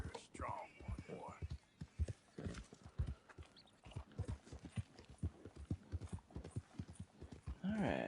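Horse hooves clip-clop steadily in Red Dead Redemption II, a close, even rhythm of hoofbeats with a short whinny near the end, while someone speaks softly over them.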